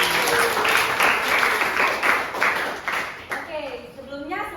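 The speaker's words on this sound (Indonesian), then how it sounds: "Boleh dong diapresiasi dengan tepuk tangan." A classroom of students claps for a group presentation on Indonesian history, a dense, steady round of applause with children's voices and chatter mixed in, tapering off toward the end.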